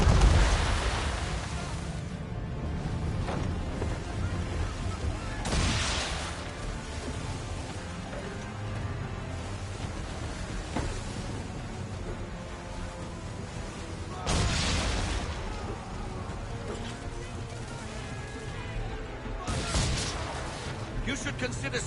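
Ship cannon fire in Assassin's Creed III, heavy booms spaced several seconds apart over a constant wash of sea and ambient noise, with talking voices in between.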